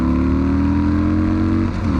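Stock Harley-Davidson Sportster with a stage 1 setup, engine running loud and close with a steady low rumble that climbs slightly in pitch, no talking over it.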